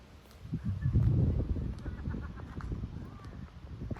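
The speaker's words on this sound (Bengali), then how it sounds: "ওই যে দূরে হাঁস" A flock of ducks on a park lake makes a rough chorus of honking quacks. The calls sound distant and overlapping, rising and then thinning out, over faint outdoor ambience.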